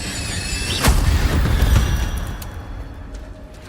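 A fire spell cast during combat in Hogwarts Legacy, erupting as a sudden loud whooshing burst with a sharp crackle, then a rumbling spread of flames that slowly fades amid game effects.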